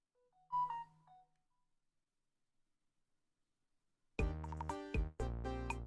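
A mobile phone goes off with a short electronic ringtone burst near the start, followed by silence, then loud tonal music-like sounds close up; no talking.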